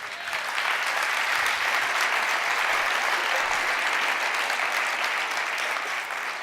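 A church congregation applauds together in sustained, dense clapping that stays steady and loud throughout, with no speech on top.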